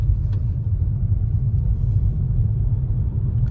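A car drives in third gear at about 30 km/h in traffic, its engine giving a steady, close, low rumble with no voices.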